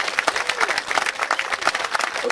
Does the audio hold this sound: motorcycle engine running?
no